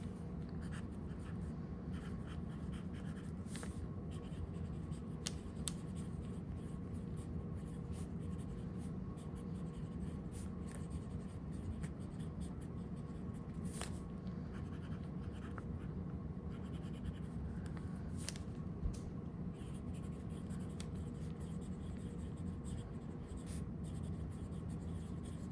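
Broad nib fountain pen scratching across paper, a soft, steady, close scratching with faint strokes continuing quietly for the whole stretch.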